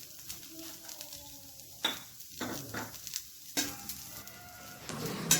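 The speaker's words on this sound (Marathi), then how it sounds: "आनी परत वयल्यान थोडे तेल घालून समज चुरचुरी जातपर्यंत हे भाजून घेवका." Bamboo shoot pieces frying in oil until crisp, a steady close sizzle broken by repeated scraping stirs of a utensil in the pan, with no voices.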